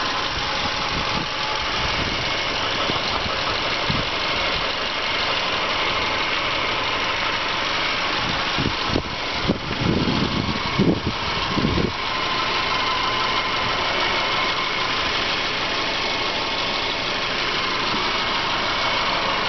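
A 2009 Subaru Forester's 2.5 liter 4-cylinder engine idles with a steady, smooth hum heard close under an open hood, joined midway by a few brief clunks and rattles.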